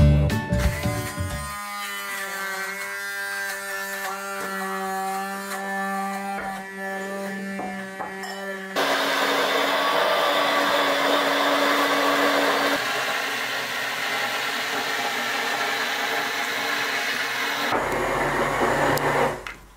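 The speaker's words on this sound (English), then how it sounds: "just make some couple movements with your blender and it all will" A hand blender whirs through ingredients with added water in a kitchen, running as a loud continuous motor drone whose pitch and load shift several times as the mixture thickens.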